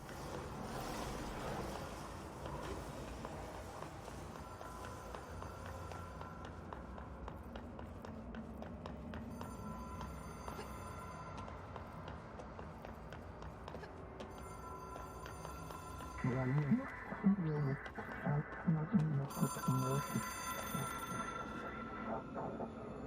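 A telephone rings in a repeating electronic pattern inside the video game Control, alongside a soft ambient hum and game sounds. Sharper, louder clattering tones join near the end.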